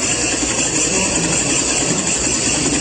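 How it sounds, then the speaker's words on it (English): A MYT engine running on compressed air at low revolutions, a steady dense mechanical hiss and chuffing that holds evenly loud throughout, with no clear separate pops standing out. "You can hear the popping sound from here. That's the compressed air."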